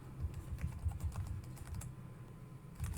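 Quiet typing on a computer keyboard, entering a yarn workspace command, a brisk run of soft close keystrokes with a short pause before a few final taps.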